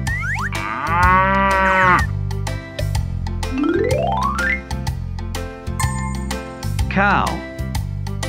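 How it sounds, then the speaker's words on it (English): An animated cow moos several times, with long wavering calls and a rising, stretched moo, loud and close over bouncy, rhythmic music with springy boing effects. "Cow."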